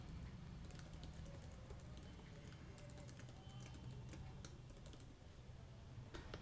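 Code being typed on a computer keyboard for a PHP web page, with steady rapid key clicks running throughout against a low background hum.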